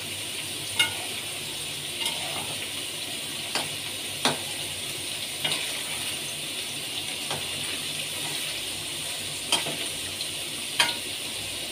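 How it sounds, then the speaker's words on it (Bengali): Onion dropped into hot oil in a home kitchen, a steady bright sizzle running throughout with sharp clicks and taps of a utensil against the pan every second or two, no talking. "এবার আমি পেঁয়াজটা দিয়ে দেবো।"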